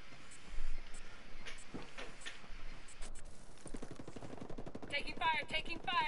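Gunfire in the Ghost Recon video game, scattered single shots early followed by sustained rapid automatic bursts, fairly loud and continuous toward the end.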